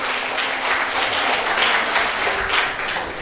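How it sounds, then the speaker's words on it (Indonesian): Sustained applause for all the participants at a storytelling competition in Kediri, a dense, steady clapping crowd that carries on without a break for the whole stretch. "Tepuk tangan untuk semuanya peserta"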